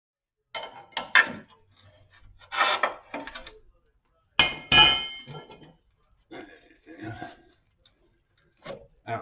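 Cross member being pulled off a 2008 Cadillac Escalade AWD during oil pan removal, heard as a series of sharp metallic clanks, knocks and scraping rubs in separate bursts with quiet gaps between, close by and fairly loud.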